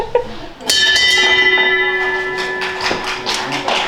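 A bell rung to mark the end of a course of radiotherapy: one sharp strike and a clear, close ring that hangs and slowly fades over a few seconds, with light tapping around it.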